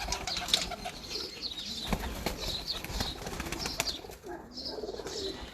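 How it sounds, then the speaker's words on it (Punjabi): Pigeons from the Nankana Sahib area coo and flutter close by, wingbeats bursting irregularly amid soft murmuring calls, with no talk. "ਲੋ ਜੀ ਇਹ ਸਾਰੇ ਨਨਕਾਣਾ ਸਾਹਿਬ ਦੇ ਇਲਾਕੇ ਕਬੂਤਰ ਨੇ।"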